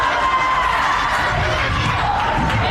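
Crowd noise fills a high school gym during a girls' playoff basketball game. The broad, continuous roar of voices and cheering swells in energy, with a commentator talking over it.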